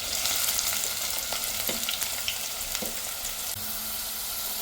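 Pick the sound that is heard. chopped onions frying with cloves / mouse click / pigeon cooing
chopped onions frying with cloves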